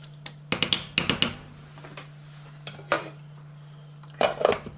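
A metal pot lid is set onto a pot of Guinness hot pot: a cluster of sharp clanks and rattles, then scattered knocks and a final short clatter, close and without talk.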